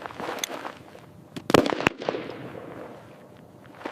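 A frag grenade detonates in a short burst of sharp cracking pops, with two loud reports close together near mid-clip, then a decaying rumble and scattered crackle over a noisy background.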